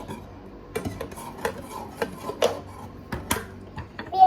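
A spoon stirs a strawberry cake mixture in a bowl, scraping and clinking against the sides in irregular strokes, close and fairly quiet with no talking.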